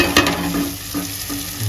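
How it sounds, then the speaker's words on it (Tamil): Cleaned fish is sautéed with salt in a pan while cooking a parai fish head curry. A spatula scrapes and stirs through a steady close sizzle of frying, with no talking. "சேர்த்து நல்லா வதக்கி எடுக்கலாங்க"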